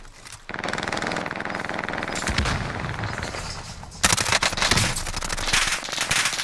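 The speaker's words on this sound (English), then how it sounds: "I'm getting shot." Automatic gunfire in Call of Duty on Rebirth Island: loud, close, sustained rapid bursts that keep going almost without pause, with a sharper burst starting partway through.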